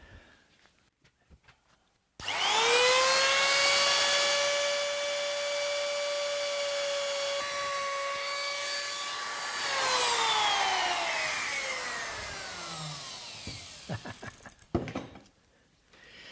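A sharp new cutter in a power tool machines an English oak dining chair rail. A motor spins up into a steady high whine, holds under load for about twelve seconds, then winds down in falling pitch and stops.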